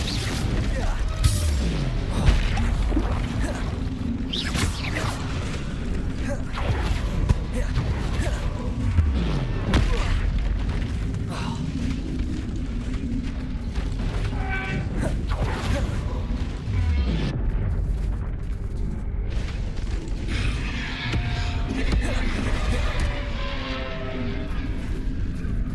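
Spell impacts and explosions in Hogwarts Legacy, with repeated booming blasts and crashing hits over a dense rumbling game soundscape, under spoken spell incantations.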